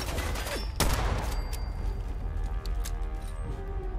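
A weapon fires in Fallout 4: one sharp, loud shot near the start, then a scattered rattle of quieter shots and mechanical clatter.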